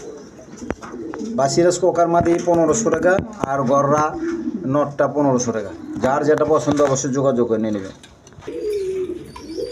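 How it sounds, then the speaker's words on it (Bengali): A pair of Bombay pigeons coos in low repeated phrases close by, mostly buried under someone talking steadily. "দর্শক এখানে এক পেয়ার বোম্বাই কবুতর আছে"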